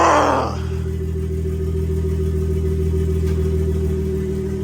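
A BMW 340i with the B58 engine running in drive after a ZF8HP50 transmission swap, a steady low engine hum holding constant after a brief louder burst at the start, with no talk.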